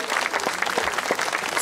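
Applause from a concert audience at a festival in memory of a bard, a dense steady clatter of many hands clapping throughout, fairly loud and close.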